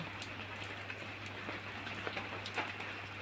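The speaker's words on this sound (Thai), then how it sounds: "วันนี้จะเอา คลิปฝนตกมาฝากเพื่อนๆ นะจ๊ะ" Steady rain falls throughout, a dense patter of drops on a surface with scattered louder splashes and a low constant hum underneath, fairly faint and with no one talking.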